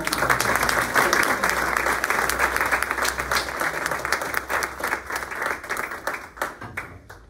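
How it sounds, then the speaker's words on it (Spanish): A hall audience at a Catholic university students' gathering bursts into sustained applause for a priest being introduced, dense steady clapping throughout that thins slightly toward the end, with faint voices mixed in. "Un aplauso."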